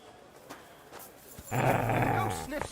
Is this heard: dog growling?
yes